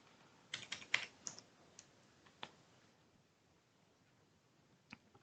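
Quiet keyboard typing at a computer, a brief flurry of light clicks followed by a few scattered keystrokes over faint background hiss, with no talk.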